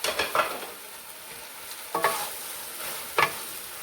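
Fried onions, bitter gourd and spices are stirred in a pan, with three distinct spoon scrapes against the metal over a soft, steady sizzle, close by and without talk.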